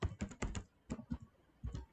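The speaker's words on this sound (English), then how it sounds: "You press enter on your keyboard." Keyboard keys clatter in quick bursts of a few taps each, with short pauses between, close and fairly quiet as someone enters a pip install command for Python at a command prompt.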